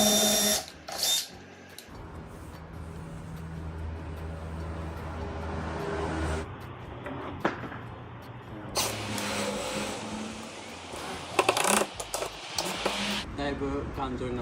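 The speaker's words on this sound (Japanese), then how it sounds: "後ろからビスでバンバン打っていきましょう" A power drill drives screws into a bed support rail inside a DIY camper van conversion, with several bursts of whirring separated by pauses, and people talk throughout.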